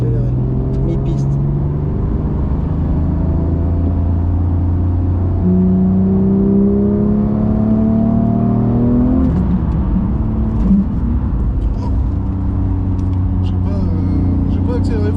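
A Porsche accelerates on the Magny-Cours circuit in the rain, its engine note rising in long sweeping pitches from inside the car, close and loud, with people talking over it.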